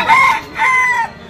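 A fighter rooster at the Duburi village market crows loudly and close by, one drawn-out crow broken into two strained, ringing phrases within about a second.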